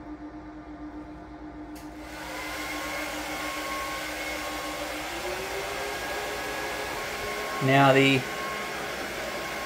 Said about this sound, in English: My wife is going to blow dry her hair.